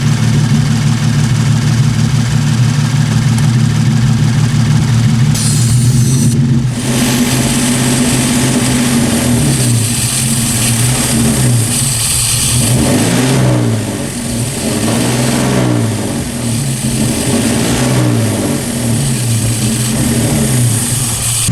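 A car engine idles loudly up close, then revs up and down in repeated swells before settling back to a steady idle.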